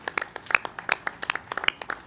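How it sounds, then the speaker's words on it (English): Scattered applause for Long Island Railroad employees at a governor's announcement, heard as sparse, uneven claps at moderate volume with no voices over them. "Please, a round of applause for the great men and women of the Long Island Railroad."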